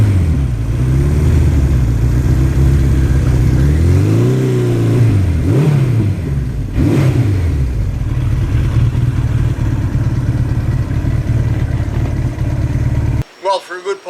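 Suzuki GS1100E motorcycle engine droning steadily while riding on a highway, with pitch rising and falling through gear changes before a loud sustained cruise, ending abruptly.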